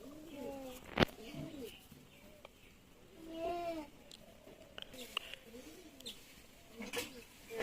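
Several pigeons coo in soft, repeated bursts at close range, among them one with duck-like feet and a pigeon of Khulna blood, with short chirps scattered between the calls and a person talking over them.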